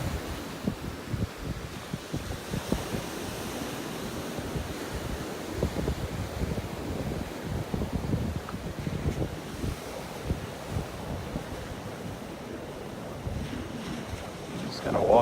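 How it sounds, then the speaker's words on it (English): Ocean waves and surf wash steadily beside the Naples Pier on a windy morning as the tide rises, with continuous broadband roar and gusty wind rumble against the microphone and no talk. "The tide is really coming up now."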